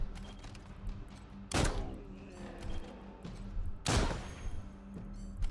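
Two sharp gunshots from the turn-based game Wasteland 3, spaced about two seconds apart, each a loud broadband crack with a short decaying tail over a low game ambience.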